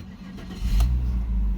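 A Dodge Ram 1500 pickup truck with a knocking engine starts up with a brief crank, then settles into a loud, close, low rumbling idle.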